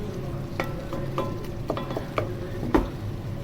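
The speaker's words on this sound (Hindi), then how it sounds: "तकरीबन 10 मिनट तक आप इसको पकाते रहना है और चम्मच हिलाते रहना है" Guar pods cook in tomato masala in a pan, a soft sizzle under a spoon scraping and stirring in a steady rhythm of separate knocks and scrapes, close and fairly quiet.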